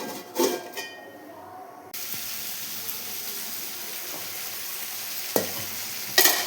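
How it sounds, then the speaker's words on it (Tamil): A pot of fish curry bubbles and simmers with a steady hiss, near and constant, a louder clink or stir marking the start and a couple of small knocks later. "மீன் குழம்பு நல்லா கொதிச்சிட்ருக்கு"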